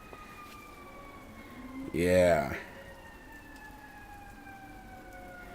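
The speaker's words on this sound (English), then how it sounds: "Got some loud sirens." Loud emergency vehicle sirens outside, heard indoors as faint, steady wailing tones that slide slowly in pitch through the whole stretch, with one short spoken word in the middle.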